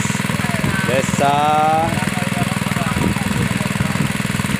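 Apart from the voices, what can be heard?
drilling for a water well in rice fields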